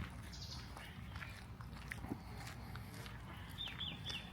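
Birds chirp faintly in a quiet outdoor setting, with a few thin high calls scattered over soft crunching footsteps and low background rumble.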